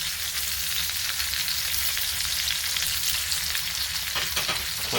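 Reverse-seared ribeye steaks sizzle loudly and steadily in a pan while being basted with butter, with crackling bursts near the end.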